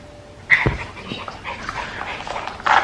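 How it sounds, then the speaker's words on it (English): A dog gives a few short, close yips and whimpering whines, with a sharp bark-like burst near the start and another brief cluster at the end, over a quiet room. "play with this bad dog"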